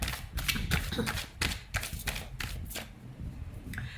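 Tarot cards are shuffled close to the microphone, a run of crisp riffling bursts and soft slaps that taper toward the end.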